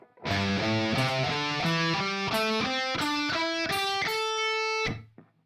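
Guitar notes climb steadily up pentatonic scale form 5, played two per string as a clear ascending run with a slightly driven tone, ending on a held top note, no voices.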